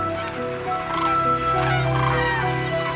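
A flock of common cranes feeding among holm oaks in Extremadura at dawn gives sharp, trumpeting calls that overlap continuously in a loud, steady chorus.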